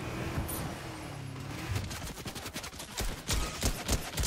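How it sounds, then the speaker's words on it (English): Rapid gunfire from a mythic AK assault rifle in the Fortnite video game crackles in quick bursts of shots, fairly quiet and mixed with other game sounds. "Let's test the mythic AK."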